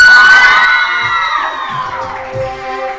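A studio audience of women on a live Hindi talk show screams and cheers loudly and shrilly, the burst strongest at the start and then fading into scattered whoops.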